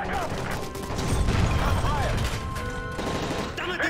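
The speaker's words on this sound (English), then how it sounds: "That's gunfire!" Rapid gunfire crackles through a Call of Duty: Modern Warfare 3 battle scene, dense and continuous bursts layered with mechanical clatter and shouted voices throughout.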